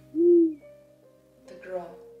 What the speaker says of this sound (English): That's an owl in a tree.